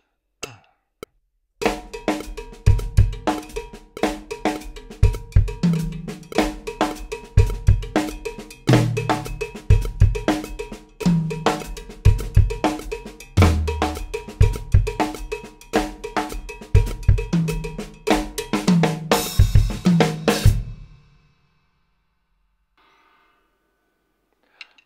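Drum kit playing a Mozambique groove, a steady driving cowbell pattern with accents moved onto the toms, loud and close for about twenty seconds before stopping abruptly.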